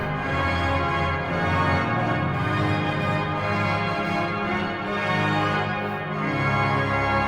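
Full tutti of the second manual on the pipe organ at Neresheim Abbey, a dense, sustained, powerful chord-rich sound filling a reverberant abbey church, steady and loud throughout.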